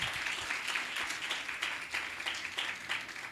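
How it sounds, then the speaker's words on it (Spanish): Applause from a small church congregation honoring the King of Kings during a Spanish-language worship service, a steady, moderately loud patter of hands lasting a few seconds without talk. "el aplauso puede ser fuerte para el Rey de Reyes y Señor de Señores"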